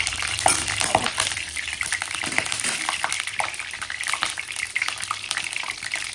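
Hot oil sizzling and spitting in a wok (kadai) as fish is about to be fried, a steady close crackle with bursts of stirring, no talking.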